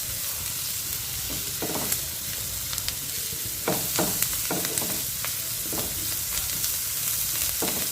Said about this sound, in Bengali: আর একটু ভাজা হয়ে যাক, নাহলে কাঁচা কাঁচা লাগবে পেঁয়াজটা।